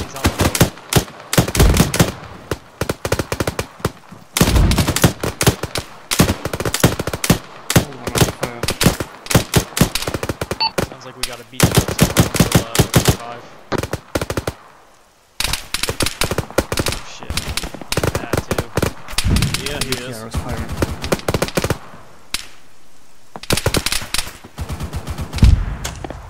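Heavy machine gun fire rakes a BTR armored vehicle in a military video game, with loud, close, rapid bursts repeating in long strings and short breaks between them.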